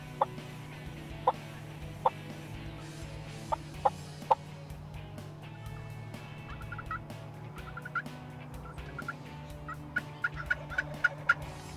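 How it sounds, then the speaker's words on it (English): Wild turkeys gobble and cluck during a youth spring hunt, a series of sharp, fairly faint calls spaced over a steady low outdoor hum, some quick clucking runs, and no voices. "in the distance, about 100 yards, they heard a gobble"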